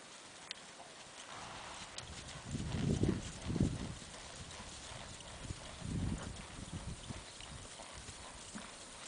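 A registered AQHA buckskin quarter horse mare trots in an arena, her hoofbeats coming in soft, rhythmic clusters of thuds against a steady background hiss.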